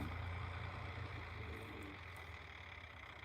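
A low, steady tractor engine rumble drones close by, a heavy motor idling and slowly fading slightly toward the end.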